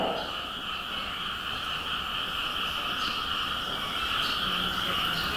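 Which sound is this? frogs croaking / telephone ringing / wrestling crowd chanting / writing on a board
frogs croaking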